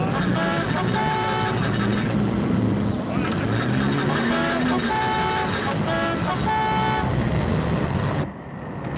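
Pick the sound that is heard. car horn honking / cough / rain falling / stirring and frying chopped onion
car horn honking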